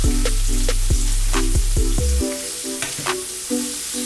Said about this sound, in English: I just want to get my veg just a little bit sweaty while I'm actually cooking my shrimp